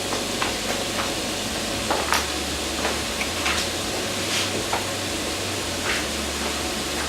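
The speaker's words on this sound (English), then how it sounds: "Now, as that's simmering, you see it's already started to cook down a little bit." A pot of white bean chicken chili with bell peppers, onions, tomatoes and garlic simmering, a steady dense sizzle and bubbling with occasional faint clicks and taps, close and continuous.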